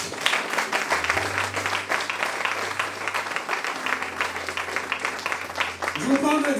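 A church congregation applauding, a dense, steady round of clapping that fills the whole stretch, with a voice speaking faintly beneath it near the end.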